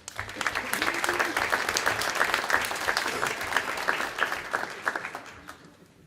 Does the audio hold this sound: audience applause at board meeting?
yes